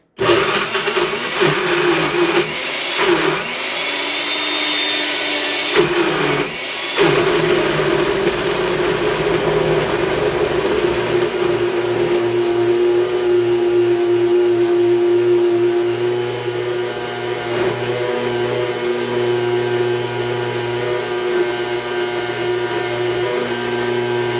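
A Nutribullet Pro 900W blender runs steadily on a smoothie, a loud close motor whine that holds for the whole stretch, with a brief stop and restart near the start and no talk.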